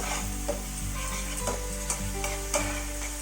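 Tomatoes frying in a pan for kaju paneer, a steady soft sizzle with several sharp stirring scrapes and clinks spaced about every half second, no voices.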